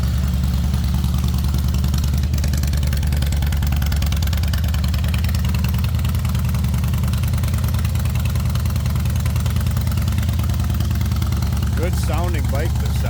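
A 2007 Harley-Davidson Softail Deluxe with a 96 cubic inch twin cam engine and six-speed transmission idles steadily, a loud continuous low rumble held throughout, nearby, with a brief higher squeak near the end.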